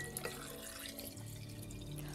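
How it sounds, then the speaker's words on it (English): Water poured from a tap into a jar holding pitted medjool dates, a steady close splashing and trickling fill with faint drips, lasting a couple of seconds without speech. "So I'm gonna add some water."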